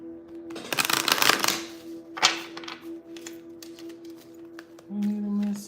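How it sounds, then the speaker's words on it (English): A deck of playing cards being shuffled close up, a dense burst of riffling clicks early on and a short second riffle later, over a steady low hum. "I might pre-shuffle the deck."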